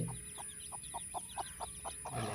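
Soft, regular peeping of newly hatched chicks, about ten short calls in an even rhythm over a steady background hum.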